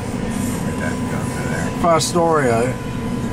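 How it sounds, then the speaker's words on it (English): A double-stack freight train rumbles past as a steady, loud low roar that fills the whole stretch, while someone speaks briefly over it. "I have no idea what the direction that train's going."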